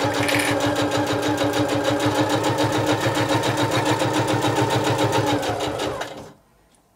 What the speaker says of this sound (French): je viens maintenant coudre tout droit pour faire tout le tour de la trousse